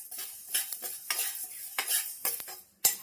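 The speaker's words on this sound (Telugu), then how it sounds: "ఇప్పుడు ధనియాలు యాడ్ చేస్తున్నానండి. అలానే జీలకర్ర కూడా యాడ్ చేస్తున్నాను. మొత్తం ఫ్రై చేద్దామండి." Coriander seeds and cumin dry-roast in a pan while a spoon stirs them, giving short scraping strokes and light rattling, fairly quiet and close, with no talk.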